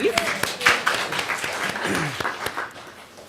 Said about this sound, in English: Hand of applause, please.